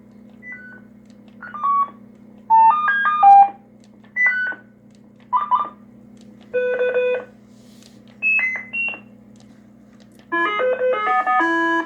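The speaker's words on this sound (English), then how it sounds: "It holds the transmit line low for the Roger beep to come through" A sequence of short electronic radio roger beep tones in varying pitches, spaced apart over a steady low hum, ending with a longer multi-tone chirp.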